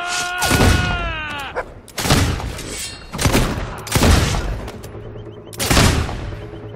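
Repeated gunfire bursts from the video game Fable II, five loud sharp shots spaced roughly a second apart, each with a booming tail, heard alone without talk.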